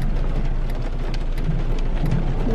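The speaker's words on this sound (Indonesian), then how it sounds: "Karena hujan seharian." Steady, close rain after a full day of downpour patters densely and continuously, with a low rumbling undertone and no voices.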